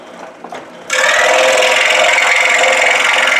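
Scroll saw cutting wood starts abruptly after a brief quiet moment, then holds a loud, steady buzzing drone with a fine rapid vibration, close and with no talking.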